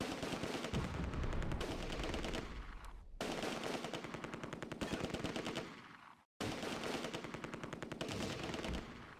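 Enemy gunfire in the WWII strategy game Close Combat: A Bridge Too Far rattles as dense, continuous machine-gun bursts. Two abrupt cuts to silence break it into three sections.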